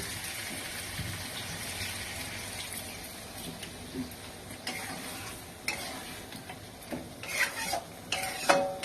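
Chettinad chicken masala sizzling in oil in a pan as water is poured in and stirred: a continuous fry hiss with splashing gushes and scraping utensil strokes growing louder toward the end, no talk.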